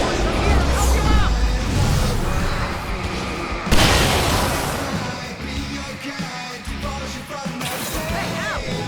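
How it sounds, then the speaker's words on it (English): Fireworks explode in the Alan Wake Remastered video game, a dense run of booms and bangs with one sharp burst near the middle, mixed with shouting and noisy combat sounds. "I can set off more of the fireworks from here and help you out!"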